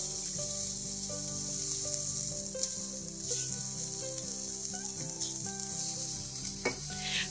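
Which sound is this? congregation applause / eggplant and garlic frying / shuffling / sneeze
eggplant and garlic frying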